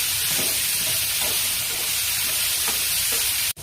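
Tomatoes sauté in a hot pan, giving a loud, steady frying hiss with faint stirring movements underneath, cut off abruptly near the end.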